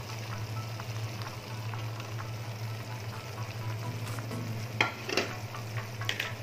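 Sardine sambal sizzles in a pan after the sardine sauce is added. A steady close hiss and bubbling carries over a low hum, with a few stirring clinks near the end.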